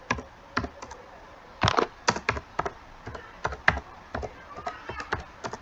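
Computer keyboard keys clatter in close, quick bursts of typing while C++ code is written, with short pauses between runs of keystrokes and no voice.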